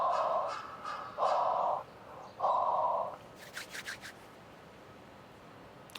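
Crows caw outdoors in three loud, drawn-out calls spaced about a second apart, followed by softer scratchy rubbing sounds over a steady background hiss.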